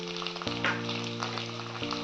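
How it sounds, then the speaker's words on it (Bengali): Onions fry in a pan for a sweet chicken dish, with ginger-garlic paste and cherry tomatoes about to go in; a steady, close hiss of sizzling oil runs throughout over a low constant hum. "পেঁয়াজগুলো ভাজা হচ্ছে"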